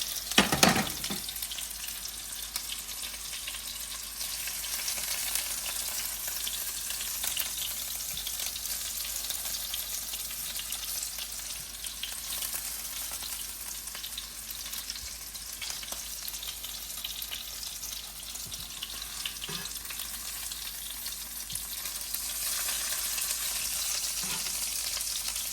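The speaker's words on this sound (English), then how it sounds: "I'm gonna take them out and put them in the sauce. So the sauce is cooking right here." Meatballs simmering in spaghetti sauce in a pan, a steady soft sizzle and bubbling with occasional stirring clatter, close and continuous with no talking.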